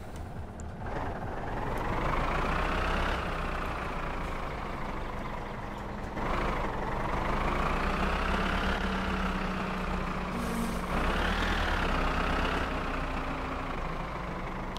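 A tractor engine in the My Summer Car video game runs in high gear with no load. It gives a steady, close diesel drone that swells up in pitch three times as the revs climb after each gear change.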